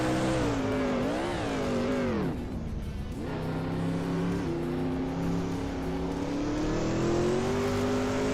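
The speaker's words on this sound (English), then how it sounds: "Imogen Tempos is driving a Pontiac Grand Prix from 1982, just ahead of Blaming Buddha Dutaton." A 1982 Pontiac Grand Prix race car in a racing video game roars loudly as its engine revs up and down through the gears, pitch climbing, dipping sharply, then holding a sustained high drone.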